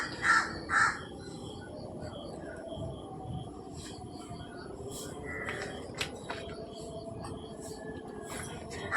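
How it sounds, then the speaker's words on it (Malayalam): Crows caw loudly in the evening, a couple of sharp calls up close at the start followed by scattered distant cawing over a low background rumble, with a faint voice in the background. "കാക്ക ഭയങ്കര ബഹളം."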